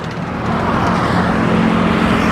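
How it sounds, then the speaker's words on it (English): Traffic of mostly motorcycles on a major morning road into Depok, Indonesia, a loud continuous engine drone and passing rush close by, without voices. "Not many cars this morning, just motorcycles."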